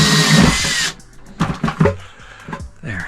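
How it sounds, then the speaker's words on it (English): A power drill whirs in a short loud burst while widening a hole, then cuts off, followed by a few clunks and brief handling noises. "we'll just drill it out a little bigger"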